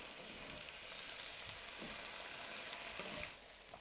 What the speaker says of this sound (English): And just remember to stir your meat.